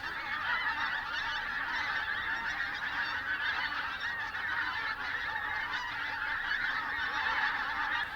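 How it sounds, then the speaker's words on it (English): A dense chorus of pink-footed geese roosting on the Wash, countless overlapping honks and yelps merging into a continuous distant clamour that holds steady throughout. "a sixth of the world's population of pinkfeet will be roosting here on the Wash."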